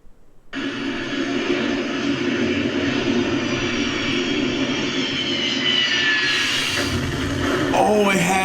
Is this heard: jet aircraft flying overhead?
yes